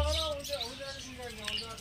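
Budgerigars and zebra finches at the Garia exotic bird market chirp and tweet in bright overlapping calls, heard under a voice talking close by.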